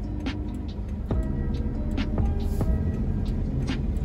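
Busy road traffic heard from inside a 2011 Toyota Fortuner G 2.5 diesel, a steady low rumble of engines with occasional sharper clicks and knocks, with no talking.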